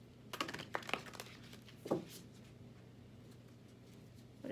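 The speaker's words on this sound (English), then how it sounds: "shuffle them a little more, get some more energy into them." Large tarot cards are shuffled by hand in quick, soft riffling bursts of papery flutter and slaps, faint and close, with a pause before a final rustle.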